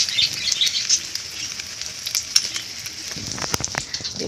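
An egg fries in oil in a pan, a close, bright crackling sizzle with spitting pops throughout and a few light scraping touches near the end.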